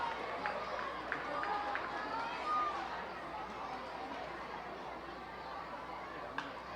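At a minor-league baseball game in Reading, the stadium crowd makes a soft, steady murmur of distant chatter, with occasional faint shouts and claps and no single sound standing out.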